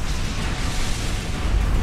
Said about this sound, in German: Kann ich ja die Dynamax-Kanone einsetzen.